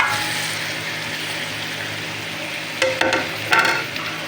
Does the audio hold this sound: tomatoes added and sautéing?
yes